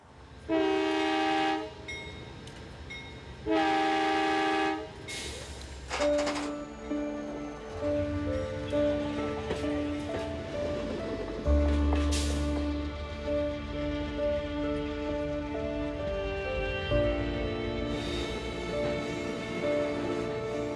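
A train rumbles past with several long, loud horn blasts, some overlapping, and rolling rail noise underneath; no talking.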